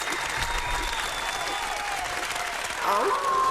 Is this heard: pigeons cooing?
no